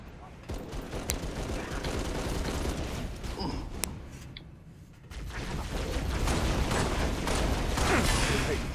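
Gunfire in the Halo game, heard on the Winter Contingency mission at Mythic difficulty, crackles in sharp shots and sustained volleys that swell toward the end, mixed with mechanical clanks and a voice talking over it.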